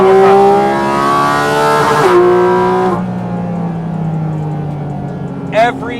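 A Porsche GT4RS Weissach engine at night, loud and close with a high rising wail that climbs sharply, cuts off at the limiter, then drops into a lower falling drone with a brief spike near the end.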